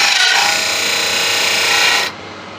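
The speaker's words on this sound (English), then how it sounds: "Sharpen up the edge." Steady rasping of a woodturning tool's edge being sharpened, a continuous loud abrasive scrape held for about two seconds before cutting off abruptly, with no talking.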